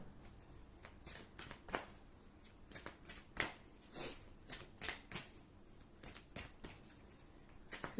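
A Wisdom of the Oracle card deck is shuffled close up, with a series of soft riffling bursts and pauses in between, quiet and with no talking.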